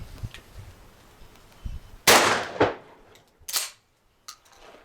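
A shotgun loaded with buckshot fires at a target outdoors, giving one loud, sharp blast that decays quickly, with a few fainter clicks and knocks around it and no talking.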